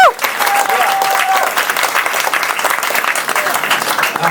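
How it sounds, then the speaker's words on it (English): Dense, loud applause from a crowd at a cancer fundraiser, cheering a band after its set, a steady wash of many hands clapping with a brief voice near the start. "So a big round of applause for them."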